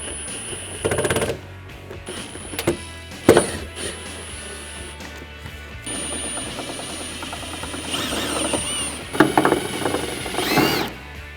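Torx T15 screws being driven to reinstall a matte black pocket-style fender flare on a 2014-2018 Chevrolet Silverado 1500 crew cab, with repeated ratcheting, whirring bursts and clicks of metal parts over about eleven seconds, no talking.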